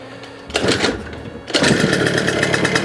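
A modified scooter engine fires up with the choke on after a false start, then idles smoothly and loudly with a rapid, even putter close to the microphone.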